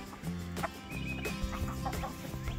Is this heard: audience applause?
no